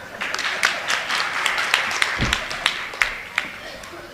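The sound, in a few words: audience applause at a speech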